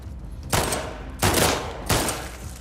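Three loud, sharp bursts of gunfire from The Last of Us Part II, spaced roughly evenly apart, each ringing out with a noisy decaying tail.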